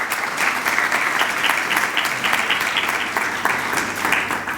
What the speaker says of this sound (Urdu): اگر شمع روشن ہے تو پھر تالیاں بجا سکتے ہیں۔